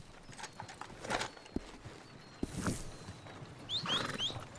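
Horse hooves clip-clopping in a video game, a few soft scattered hoof beats at moderate distance mixed with ambient game sounds, some faint bird-like chirps near the end.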